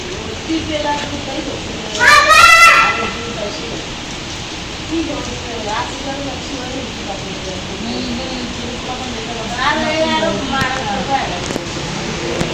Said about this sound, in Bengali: আরো বৃষ্টি জোরে নামতেছে, অনেক জোরে নামতেছে